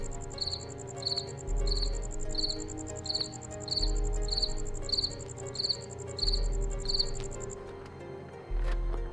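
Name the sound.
cricket chirping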